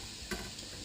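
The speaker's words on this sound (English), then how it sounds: "onions and the red peppers have been frying for a couple minutes" Onions and red peppers frying in a pan for a one-pot quinoa paella, a soft, quiet sizzle with one brief clink or stir in the middle and no talking.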